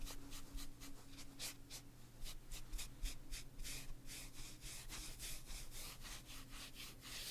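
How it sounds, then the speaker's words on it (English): A fingertip rubs product into brows and lashes up close in a quiet setting, making soft, rhythmic scratchy strokes repeated many times over low background hum, with no talking. "Gonna rub this in with my finger"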